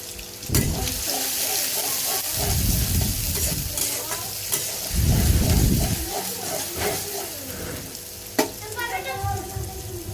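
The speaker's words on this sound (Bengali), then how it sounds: "পেঁয়াজ দিলাম তেল দিব পেঁয়াজটা ভাজবো ভালো করে" Onions fry in oil in a pan with steady sizzling, stirring and scraping, broken up by a few louder bursts of running water from a nearby tap.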